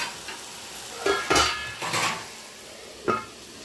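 Mushroom curry is stirred in a pot: a few scraping strokes and sharp metallic clanks, then a single clack near the end as a lid goes on, quiet and close with no speech.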